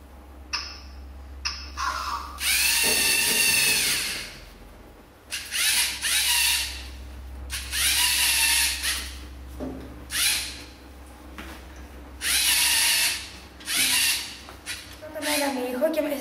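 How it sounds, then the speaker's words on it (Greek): Bursts of whirring, ratcheting motor noise from a small robot driving forward and back start and stop repeatedly over a low steady hum, with short pauses between runs. "Το ρομποτάκι αρχικά έχει έναν ήχο, στη συνέχεια προχωράει μπροστά"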